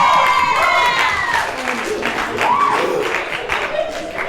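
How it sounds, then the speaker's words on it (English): A comedy club crowd applauds and cheers a stand-up comic as his set ends, a broad wash of clapping that stays strong throughout, with voices calling out over it. "Give another round of applause to Jake"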